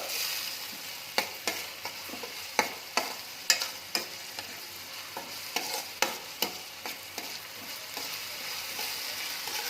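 Spinach (palak) fries in a pan for palak chitranna under a steady sizzle. A spatula scrapes and taps about a dozen times at an irregular rhythm, loud and close, with no talking.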